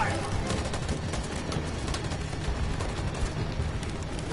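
Troops in Detroit: Become Human fire their guns on command, a sustained, dense barrage of overlapping shots filling the scene at steady loudness without a break.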